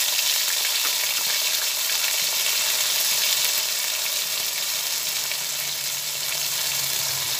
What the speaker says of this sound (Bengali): এগুলো সব ভেজে নিচ্ছি।